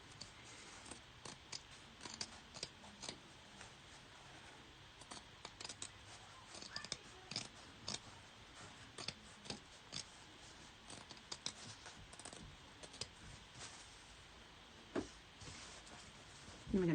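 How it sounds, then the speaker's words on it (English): Scissors make small, scattered snips while trimming appliqué fabric close to a stitch line, quiet and close with irregular pauses between cuts. "So I am going to just do little snips."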